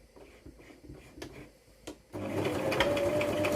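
A sewing machine stitches face mask fabric, a soft buzzing run of stitches that pauses briefly, then resumes louder and steady as the seam is sewn forward and back.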